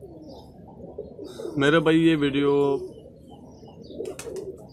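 Pigeons coo in a loud, close burst of rolling, throaty calls lasting about a second, with softer bird sounds and a voice speaking before and after.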